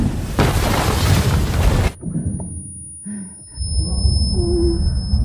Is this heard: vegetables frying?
no